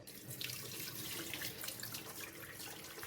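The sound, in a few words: draining rinse water from anchovies at sink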